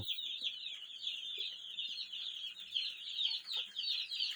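Newly arrived chicks peeping continuously in a dense, high chorus, close and steady, with no talk over it.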